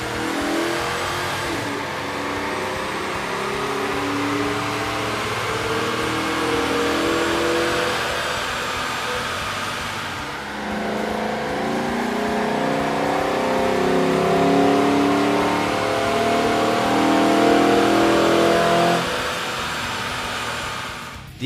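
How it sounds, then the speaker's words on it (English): A 6.2-liter V8 with an aftermarket air intake revs on a dyno, its loud, continuous roar climbing and holding through repeated pulls, with no voices. "we ran the vehicle on the dyno to test the sound comparison versus the stock intake"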